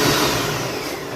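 A countertop blender runs steadily while blending a detox drink, a loud continuous whirring roar with no talk over it.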